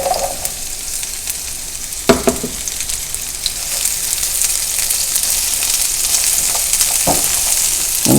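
Sliced okra dropped into a hot gumbo pot sets off a loud, constant sizzle and hiss, punctuated by a few sharp clatters and scrapes from stirring, with no talking.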